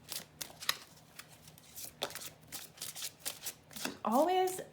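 Tarot cards being shuffled close by, with quick papery riffles and soft flicks in an irregular rhythm, while someone speaks over them and briefly makes a higher vocal sound near the end.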